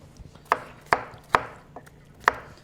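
A peeled potato is cubed with a knife on a board: four sharp, evenly spaced chops over a quiet kitchen background, close and clear.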